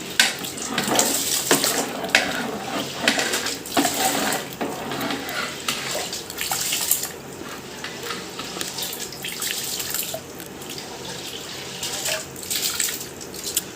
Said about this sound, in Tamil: இப்போ வந்து நம்ம 2வது குண்டாவுக்கு வந்து அரிசி போடுறோம்